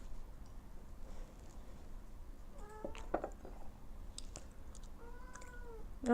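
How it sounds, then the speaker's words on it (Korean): A house cat lets out a few short, quiet meows at close range, spaced a couple of seconds apart against a hushed indoor background. "아무리 생각해도 너무 웃긴 우리 집 고양이."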